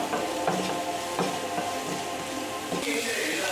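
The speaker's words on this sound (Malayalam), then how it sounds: "എന്നിട്ട് നമുക്ക് നന്നായിട്ട് വഴറ്റി കൊടുക്കാം. ഇതൊന്ന് വഴന്ന് വരട്ടെ" Onions and green chillies sautéing in a pan with salt, a continuous sizzle with repeated spatula scrapes and stirs at close range, a brief clink partway through.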